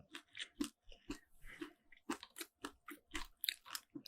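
Close crunching bites and chewing of a crispy chicken nugget coated in spicy Buldak sauce, a quick steady series of crisp crackles, loud and intimate with no talking.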